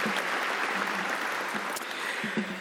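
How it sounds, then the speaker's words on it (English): Audience clapping at an aviation hall of fame awards dinner and induction, a steady wash of applause from a room of guests with a few louder individual claps near the end. "I'll ask him to please stand and join me in a round of applause."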